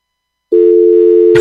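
A steady, loud telephone dial tone on a radio call-in line starts abruptly after a brief silence and holds unbroken at a single pitch, ending in a short burst of noise.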